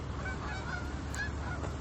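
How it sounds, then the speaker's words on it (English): Geese honk repeatedly at a distance, their calls overlapping against a low steady background hum. "I turned on the lights and the geese got spooked."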